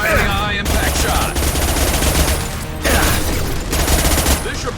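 Sustained heavy weapon fire in the shooter game Mass Effect 2, dense rapid bursts that are loud and continuous, broken by brief pauses, with faint battle chatter mixed underneath.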